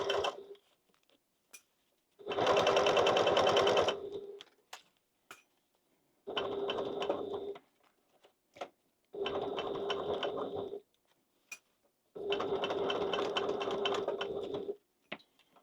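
A sewing machine stitches a bag strap in short runs. Five whirring bursts of a few seconds each are separated by pauses with small mechanical clicks, all close and clear, with no talking.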